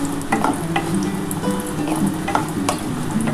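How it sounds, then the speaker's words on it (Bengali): Lentil dumplings (bori) frying in oil in a pan, a close, steady sizzle with occasional scraping stirs throughout, no voices. "এই যে বড়িটা ভেজে তুলে নিয়েছি"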